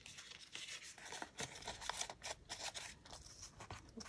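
Scissors snip and rasp through sewing pattern tissue paper in a steady run of short, crisp cuts, close and fairly quiet with no talking.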